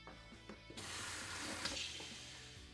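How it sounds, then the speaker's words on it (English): Cold tap water gushing into a homebrew fermenter of IPA wort with liquid malt extract, topping it up to the 5 gallon mark; a few faint knocks precede a sudden steady rushing pour that continues throughout. "we're now going to top it up to the 5 gallon mark or the 23 litre mark with cold tap water"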